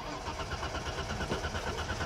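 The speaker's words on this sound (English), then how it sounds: "She is out of gas, but she cranks." A BMW 325e engine, out of fuel, turns over in a continuous rhythmic chugging crank without catching, heard close and fairly loud throughout.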